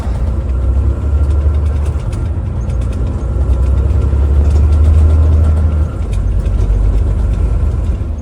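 A Volvo engine runs at a steady idle close by, its low, loud, continuous rumble carrying a slight uneven knock and a brief dip and swell in level, with no voices.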